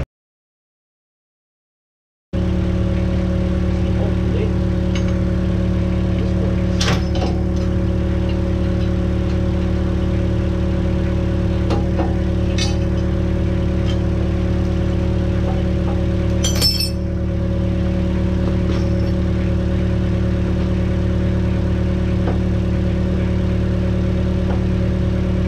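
Skid steer engine idling steadily beside a Case 310 dozer, a constant low drone starting after a short silence, with occasional faint metallic clinks and taps over it.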